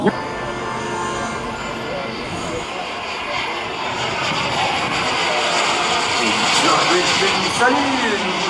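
A Messerschmitt Me 262 jet makes a very low pass along the full length of the runway at the 2004 La Ferté airshow. A loud, continuous jet roar swells slightly as it passes, with an announcer talking over it.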